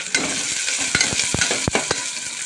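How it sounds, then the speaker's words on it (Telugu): Chopped onions frying in oil in a pressure cooker, a dense continuous sizzle with scattered sharp pops and spatters close by, and no voices. "ముందైతే ఇవన్నీ ఇప్పుడైతే బాగా ఫ్రై చేసుకుందాం."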